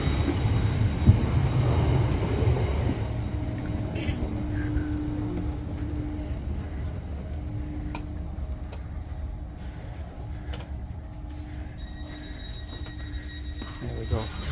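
A train rumbling along with steady low roar and faint mechanical whine, rattles and clanks scattered throughout, moderately loud and nearby.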